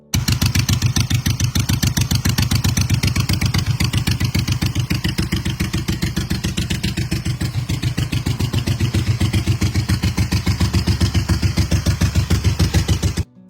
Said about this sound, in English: 1977 Harley-Davidson Sportster 1000 Ironhead, a classic old-school build that's been fully gone through and refreshed with all new components.